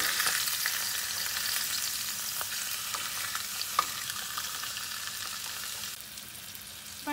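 Blackened fish fries skin side down in a pan, giving a steady, quiet, even sizzle with a few small pops.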